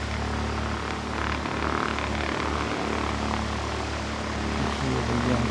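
A Partenavia P68 twin-engine propeller plane sits idling nearby, a steady low bass rumble with a constant propeller drone that stays loud and even throughout, with no talking.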